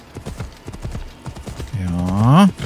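Rhythmic clip-clop of a horse ridden in Assassin's Creed Odyssey, with close steady hoofbeats that end in a loud rising whinny.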